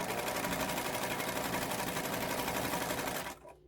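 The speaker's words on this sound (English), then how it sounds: "I just want to see if this machine's going to run a stitch." A 306 sewing machine running its first test stitch after sitting with an uncleaned upper tension makes a fast, steady mechanical whirring and clatter up close, then stops abruptly near the end.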